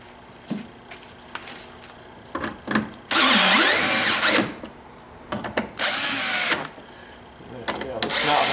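Power drill running in several bursts, snugging fine-thread screws on a BMW six-cylinder engine during oil filter housing leak repair; short whirring pulls alternate with longer sustained runs, close up, with brief talk between.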